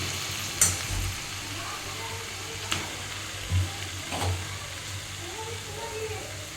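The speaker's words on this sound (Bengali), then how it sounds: "আর আমি এখন একটু চিকেনটা রান্না করছি" Chicken cooking in a pan, with a low sizzle and occasional knocks and scrapes of stirring, and faint background voices.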